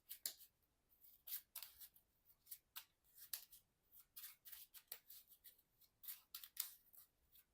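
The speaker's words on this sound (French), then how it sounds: "Donc là, je remélange." A deck of cards for the Marvel Champions card game being reshuffled by hand, heard as a quick run of soft, papery riffles and flicks, faint and close, with no talking.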